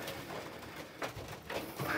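Pigeons coo softly inside a loft. Several low, murmuring coos overlap in a quiet, close-up setting with no speech.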